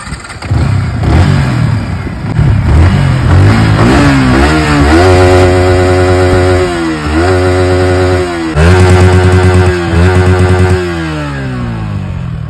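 A new Yamaha R15 V4 motorcycle engine starts up and revs repeatedly, loud and close, the pitch climbing and dropping between bursts before settling to idle.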